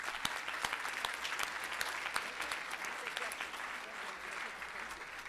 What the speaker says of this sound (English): So I want to give them a big round of applause.